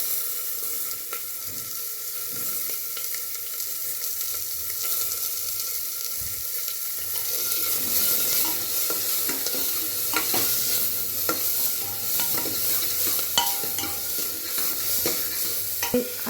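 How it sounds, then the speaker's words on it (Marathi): Chopped onion hits a hot pan and fries with a continuous crackling sizzle, punctuated by scraping stirs and clinks of a utensil, close and steady with no voices. "आता टाकणार आहोत आपण कांदा"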